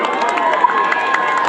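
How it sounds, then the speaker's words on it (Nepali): A dense crowd at a national Magar Unity Day celebration applauds and cheers to welcome a performer onto the stage, a steady, loud wash of clapping with brief louder bursts. "कृपया सबैलाई उहाँको लागि जोरदार तालीले स्वागत गरिदिनु हुन म हार्दिक अनुरोध गर्दछु"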